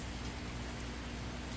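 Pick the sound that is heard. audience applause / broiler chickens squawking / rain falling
rain falling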